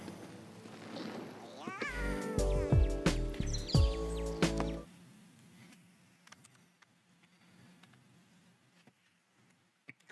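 A cat meows in The Elder Scrolls Online, several loud, drawn-out, pitch-bending calls close together in the first half, then only a faint, quiet background with occasional small clicks.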